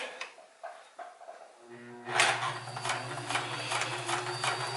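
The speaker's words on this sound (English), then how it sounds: "That was the hand wheel engaging" A Sears Kenmore 158 sewing machine starting a straight stitch: a click as the hand wheel engages, then a steady, loud mechanical hum with a rapid regular needle rhythm.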